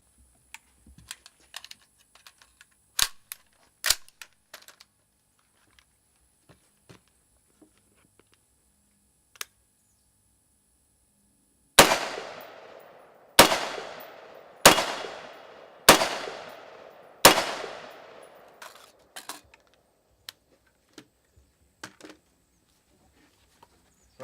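Five sharp rifle shots of green tip 5.56 M855 ammunition strike an armor plate, evenly spaced in a quick sequence and loud against otherwise quiet surroundings with scattered small clicks and taps.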